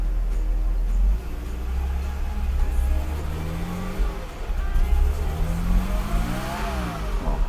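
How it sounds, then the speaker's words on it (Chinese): A Mercedes 300GE engine with a faulty fuel distributor revs up but keeps faltering and surging unevenly, its pitch rising and dipping as it struggles to accelerate under fuel starvation. "我一踩油门它就会顿了， 油门上 不去"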